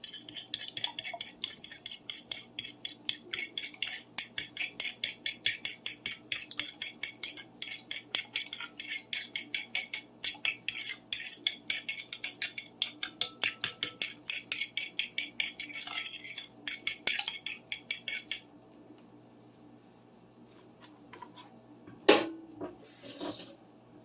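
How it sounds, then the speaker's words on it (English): Eggs are whisked in a bowl, a fast steady run of metallic clinks and scrapes repeating for most of the stretch, then stopping, followed by a few faint knocks and one louder clatter. "Go ahead and whisk the eggs."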